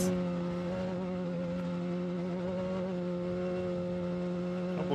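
A side-by-side off-road vehicle in the Vegas to Reno desert race drones past with a steady, buzzing engine tone, fairly faint and constant, with no voices.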